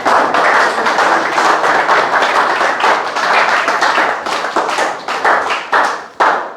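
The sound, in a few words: congregation clapping to acclaim Jesus Christ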